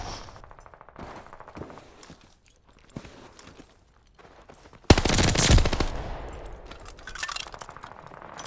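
Rapid bursts of gunfire in a multiplayer shooter video game, with sparse shots and footsteps early on and then a loud, dense volley of automatic fire that tails off into scattered shots.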